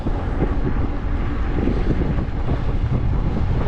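Strong wind blowing over Karadag in Crimea, a steady loud roar buffeting the microphone throughout, with no voices.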